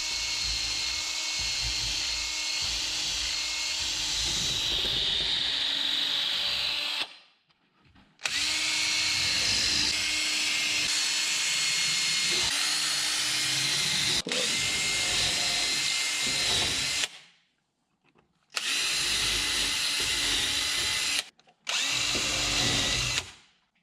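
A power drill whirs steadily, boring holes through wooden stair treads in long continuous bursts separated by brief pauses, loud and close.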